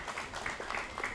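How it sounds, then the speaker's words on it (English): Audience applause for the panelists at a smart cities leaders' conclave, a brief steady patter of many hands clapping across a conference hall, even and sustained with no voices on top. "I suggest a round of applause for our panelists"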